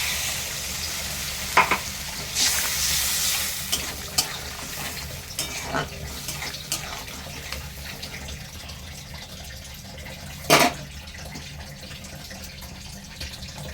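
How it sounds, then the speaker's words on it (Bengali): Water used to rinse mustard paste from a grinder is poured into a hot pan of eggplant for a mourola fish curry, bursting into a loud hiss before settling into a gentle simmer with occasional clinks. "এবার আমি ওই মিক্সিতে সর্ষে বাটার ধোয়া জলটা দিয়ে দিচ্ছি।"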